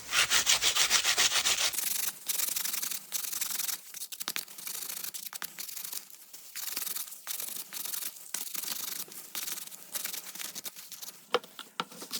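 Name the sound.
scraping a carrot with a knife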